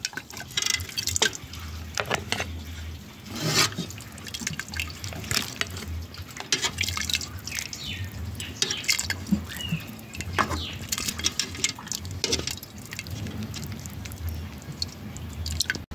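Red pozole, a Mexican hominy stew, ladled into a bowl: liquid pours and drips with scraping spoon and clinking bowl sounds over a steady close background, with no talking.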